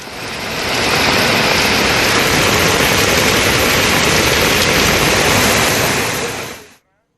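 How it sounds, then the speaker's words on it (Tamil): Moderate rain in Ariyalur pours steadily onto the roads, a dense, loud, even hiss of falling water that runs for several seconds and then cuts off abruptly. "மழையானது தற்போது பெய்து கொண்டிருக்கிறது."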